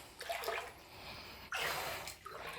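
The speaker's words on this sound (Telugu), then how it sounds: "అంతగా నీళ్ళు అంతా ఊరుతున్నాయి." Inside a rock cave, water seeps and trickles in soft, splashy bursts that swell and fade, faint and close, with brief gaps between the pours and no speech.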